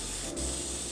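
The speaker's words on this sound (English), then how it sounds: "I'm going to take this can of butter and I'm just going to spray this pie crust with it" Butter sprayed from a Misto oil sprayer onto a pie crust for a no-bake chocolate cheesecake pie gives a steady close hiss lasting just under a second, with a short burst of fizz near the middle.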